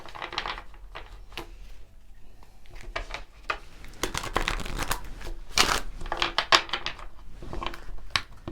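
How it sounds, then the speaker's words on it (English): A deck of tarot cards is shuffled by hand, with quick riffling bursts and soft papery slaps repeating near and clear, no voices present. "Let me get one more shuffle."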